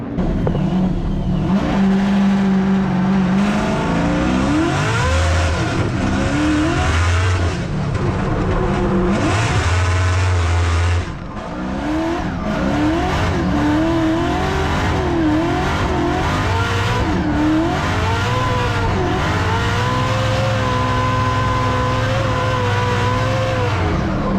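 A drift car engine revs hard and repeatedly during Formula Drift New Jersey practice laps, rising and falling in pitch as it accelerates and lets off, loud and close for the whole stretch.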